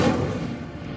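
An Incendio fire spell in Hogwarts Legacy gives a brief, full-bodied rush of flame, loud at first and thinning out within a second.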